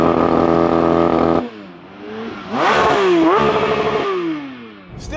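Revving exhaust of a 2024 Porsche 911 S/T heard from outside, a loud steady idle-like drone, then a drop, then sharp rising and falling revs with rapid blips, ending in a short burst.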